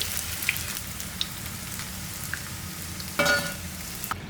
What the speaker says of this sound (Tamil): காலிஃப்ளவர் எல்லாமே நம்ம ஊற்றின எண்ணெயில் நல்லா பொரித்து எடுத்துட்டோம்